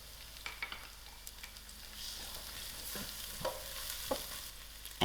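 Crushed garlic and green chilies stirred in a hot pan for a traditional tiny beans and tinned fish dish, with soft scraping strokes and a low sizzle that builds toward the end, ending in a sharp clatter.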